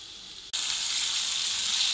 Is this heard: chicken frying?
yes